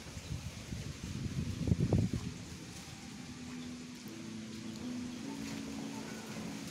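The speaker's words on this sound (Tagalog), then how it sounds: "Ayun na, humangin ng ano, malakas." Strong wind gusts and rushes outdoors around banana trees ahead of rain, roaring steadily with a louder buffeting swell early on, then settling into a continuous breezy hiss.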